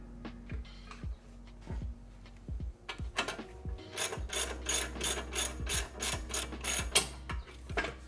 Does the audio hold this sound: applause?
no